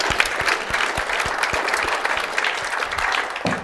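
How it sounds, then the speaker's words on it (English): An audience gives a round of applause for the Minister at a public talk on Auckland's future growth, with steady close clapping from a crowd that lasts the whole stretch. "A round of applause,"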